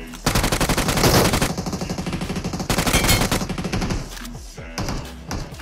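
Automatic weapon fire in the mobile battle royale BGMI, repeated rapid bursts of shots for about four seconds, loud and near, tapering off into quieter game noise and scattered shots at the end.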